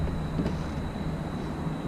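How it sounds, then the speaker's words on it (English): A distant train rumbles in a steady low drone beside a gravel lot at dusk, faint and continuous with no voices over it. "I hear a train"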